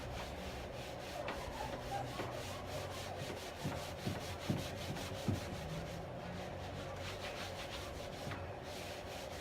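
A rag rubs Dixie Belle Best Dang Black Wax onto a piece of furniture in quiet, steady strokes, with a few brief scuffs standing out over faint background hum.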